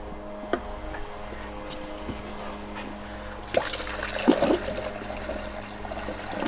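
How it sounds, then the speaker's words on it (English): Water is poured into the radiator of a Spec Miata (Mazda MX-5) track car, a soft steady trickle that grows into a fuller splashing pour partway through, with a few clinks in a quiet garage. "I'm going to go ahead and fill this radiator up with some water"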